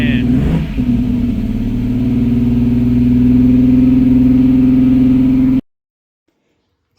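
Heavily modified 1200-horsepower Toyota Supra engine running rough as if down a cylinder, a loud, close, uneven droning idle with a steady low hum that cuts off abruptly near the end.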